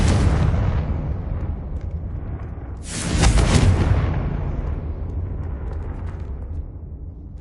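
Spell blasts in the Hogwarts Legacy video game: a loud rumbling explosion at the start and a second heavy boom midway, each trailing off into a long, decaying roar.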